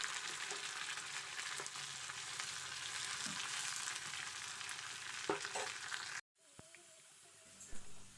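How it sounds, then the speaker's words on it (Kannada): Onion, green chili and curry leaves frying in hot oil for a tempering, giving a steady, loud, close sizzle for about six seconds before it abruptly cuts off into quieter kitchen sounds. "ಸ್ವಲ್ಪ ಎಣ್ಣೆ ಹಾಕಿ ಈರುಳ್ಳಿ, ಹಸಿಮೆಣಸಿನ್ಕಾಯಿ, ಕರಿಬೇವು ಸೊಪ್ಪು ಹಾಕಿ ಒಗ್ಗರಣೆ ಮಾಡ್ಕೋಬೇಕು"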